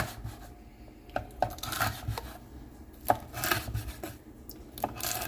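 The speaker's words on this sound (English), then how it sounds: "So now I get to where I chop up my bacon." Bacon being chopped with a knife on a cutting board, a series of irregular sharp taps and thuds against the wood with light scraping between cuts, close and without speech.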